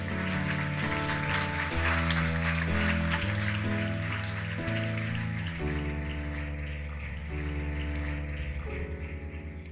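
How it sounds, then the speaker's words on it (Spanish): A church congregation applauding, a steady wash of many hands clapping under sustained organ or keyboard chords that change through the passage. "Un aplauso a nuestro Señor Jesucristo."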